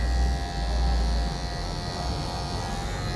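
Electric hair clipper with a half-zero guard comb trimming a beard for a fade, giving a steady close buzz with a low hum that runs unbroken for the whole stretch and no one talking.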